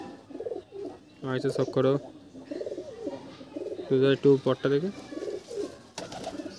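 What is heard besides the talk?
Dhille pigeons cooing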